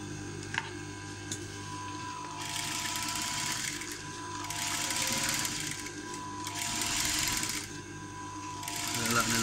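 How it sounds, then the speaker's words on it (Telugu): A sewing machine stitching a plain blouse runs in several bursts of fast, whirring rhythmic needle clatter, close by, with short pauses between runs and someone talking underneath. "నిదానంగా ఏ పార్ట్ లాక్కోకుండా సమానంగా పెట్టుకుని నిదానంగా కుట్టుకుంటూ ఉండాలి."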